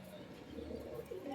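Soft low cooing from pigeons of a high-flyer breed, faint and repeated, mixed with a voice talking nearby.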